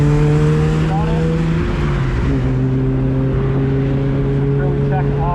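Ecotec-swapped Mazda Miata pulling onto a race track under load, steady engine drone holding close and loud, briefly dipping in pitch mid-clip as it shifts then climbing again, with a voice talking over it.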